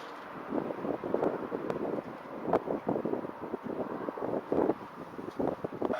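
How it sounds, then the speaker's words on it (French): Outdoor wind buffets the microphone in gusty rumbling bursts, steady throughout with no voices. "Alors, il y a un peu de vent."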